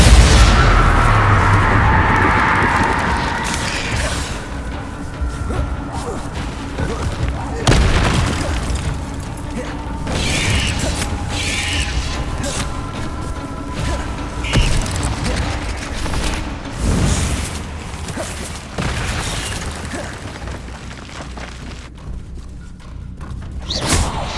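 Repeated booming blasts and heavy thuds from the Bombarda explosion spell in Hogwarts Legacy, dense and loud across a busy combat soundscape while a voice speaks throughout.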